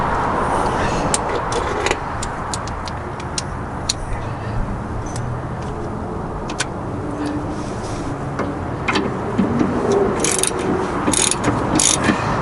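A wrench ratchets on the rear suspension of a Ford Focus ST, with quick clicking bursts over a steady background hum, growing sharper and denser toward the end.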